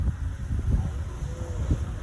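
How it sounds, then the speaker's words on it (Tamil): Wind gusting across Pakkirappa Beach in Kilakarai at dusk, a steady low rumbling roar with buffeting on the microphone, continuous and fairly loud with no voices. "காற்று அடிக்குது"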